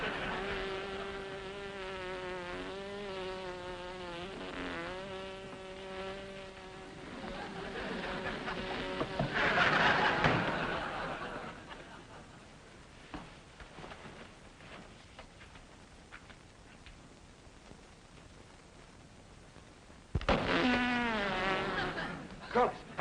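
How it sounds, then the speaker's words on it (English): A bee buzzing indoors, its droning whine wavering as it moves about the room, loud near the start, fading out, then returning briefly at the end. "There's a bee in the room."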